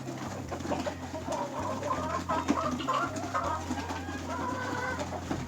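Hens at a poultry farm cluck and call over a constant low hum while small chicks are given grain, with bird calls overlapping fairly close and no talking.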